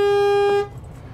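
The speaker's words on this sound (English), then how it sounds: "Or I've got my city horn." A single short city horn honk from a 2023 Renegade Explorer 38EMB motorhome sounds steadily for about half a second and then stops, followed by quiet background hum.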